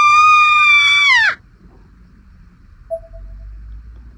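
Scream in the horror video game Corpse Party Blood Drive: a loud, high, piercing shriek lasting just over a second that falls in pitch and cuts off abruptly, followed by near silence and a faint short tone.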